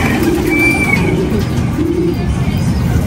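Pigeons coo in low, soft bursts, two short runs of cooing over a steady background hiss.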